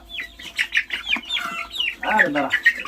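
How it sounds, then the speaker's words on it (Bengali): Several young White Brahma and Light Brahma chicks peep and cheep rapidly at close range, their high chirps overlapping in quick bursts. "এটা হচ্ছে হোয়াইট ব্রাহ্মা, যেটা সাদাটা, আর এটা হচ্ছে লাইট ব্রাহ্মা, কালোটা।"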